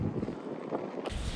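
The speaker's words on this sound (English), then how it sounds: "Now it's super windy coming from this way." Strong wind buffets the microphone at a riverside campsite by the Salmon River, giving a brief, blustery rumble with a gust swelling near the end.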